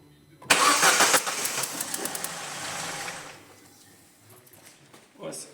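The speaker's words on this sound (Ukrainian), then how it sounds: "Зараз я заведу машину." A 2007 Opel Corsa D with the 1.4 Z14XEP engine, suffering misfires and unstable running, cranks briefly and starts, then settles into a rough idle that fades, with a brief voice at the end.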